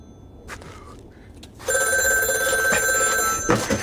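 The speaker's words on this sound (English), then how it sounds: "No one rings a phone in this street" Public telephone on a street, a few faint knocks and sounds first, then a loud, continuous bell ring that starts abruptly and holds to the end.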